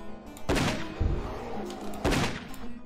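Two loud, sharp gunshots a second and a half apart boom in the Erzurum video game as a bear is shot at, each blast followed by a short rumbling tail.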